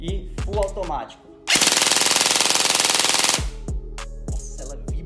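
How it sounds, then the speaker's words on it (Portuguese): A TK45 airsoft AEG rifle with a factory Titan gate fires a sustained full-auto burst of about two seconds, a loud, dense rapid rattle. Speech comes before and after the burst. "Esse fogo automático aqui é absurdo."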